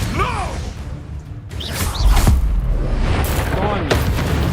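Spells burst in the online game SpiritVale with booming blasts, whooshes and mechanical clatter in quick succession while someone talks over the action.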